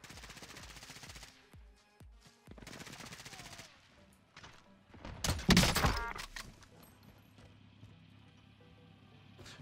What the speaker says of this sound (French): Il y a un sniper fou, les gars.